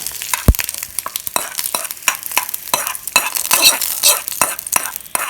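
Chillies and curry leaves sizzle in hot oil for a lentil chutney, a loud close crackling spatter with sharp pops and a spoon scraping the pan, no talking.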